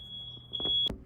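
A steady high-pitched electronic alarm tone sounds alone for about a second, then cuts off with a short click and thump.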